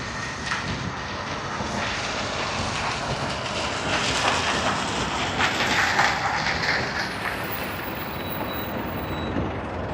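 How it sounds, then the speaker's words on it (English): A Jetstar airliner arriving from Osaka at Sydney Airport produces a loud, steady jet roar that swells slightly in the middle and holds throughout, with no voices. "we have Jetstar that is coming in from Osaka, Japan"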